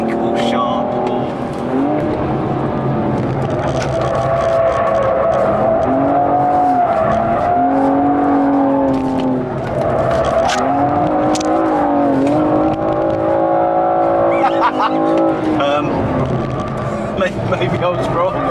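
Engine of a fast car being driven hard, either a Mercedes A45 AMG or a BMW M235i, loud and continuous with rising and falling revs through gear changes and brief tire squeal.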